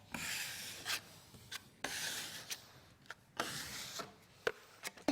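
Trowel spreading a skim coat over a taped joint in a Cemintel texture coating system, heard as a close run of repeated scraping, rasping strokes with short pauses between passes, alone without talk.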